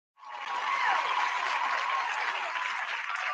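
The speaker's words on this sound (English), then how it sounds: "I couldn't hear you over the loud applause of the thousands and thousands of fans" Loud, dense applause from a large crowd of fans at a live anniversary show, starting abruptly and holding steady as a sustained roar of clapping with no talk over it.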